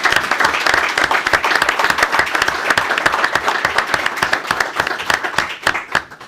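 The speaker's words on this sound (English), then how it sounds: "So I'd like to give them all a round of applause for all the work that they do." Applause at a county commissioners' meeting: a room full of people clapping steadily and fairly loud for about six seconds, the dense claps thinning slightly toward the end.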